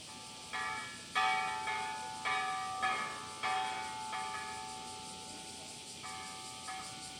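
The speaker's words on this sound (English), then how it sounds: "The peace bell tolls throughout the year" The Hiroshima peace bell tolls again and again. Each ringing strike fades slowly, with roughly eight strikes at an uneven pace in a quiet outdoor setting.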